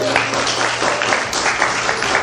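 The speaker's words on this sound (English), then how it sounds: "Give yourselves a big round of applause." Dense, steady applause from the audience at a live podcast recording, a continuous wash of many hands clapping at close range with no gaps, full and fairly loud throughout.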